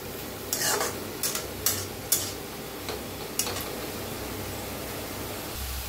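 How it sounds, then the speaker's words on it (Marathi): A spoon scrapes and clicks against a pan while pumpkin and ambadi greens are stirred, a few sharp knocks spaced over a soft, steady cooking hiss. "तर भाजीला मिक्स करूया।"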